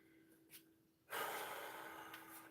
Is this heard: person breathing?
yes